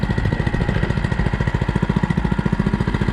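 Small pull-start engine on a hobby machine runs at a fast, even chugging idle, close and loud, with a steady rapid pulse throughout.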